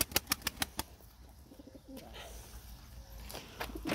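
Pet birds coo softly indoors, preceded by a quick series of sharp flapping or tapping bursts, then low murmuring coos continue at moderate distance.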